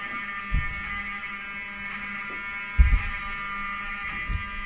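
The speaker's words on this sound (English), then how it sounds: "I want them to hear the fire alarm." A hotel fire alarm rings as a steady, harsh buzzing tone that continues throughout, heard indoors with a few low thumps and bumps nearby and no talk.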